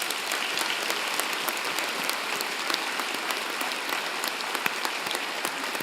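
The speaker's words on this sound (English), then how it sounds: "thanking them with a vigorous round of applause" A graduation convocation audience gives a vigorous, sustained round of applause, dense steady clapping filling the whole stretch at an even level with no voices rising above it.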